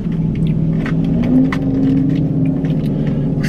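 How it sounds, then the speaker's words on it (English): Traffic on a road near a beach: a steady, fairly loud wash of cars driving past, with one engine swelling and fading mid-way, no talk. "Listen to all these cars. That noise kind of scares me sometimes."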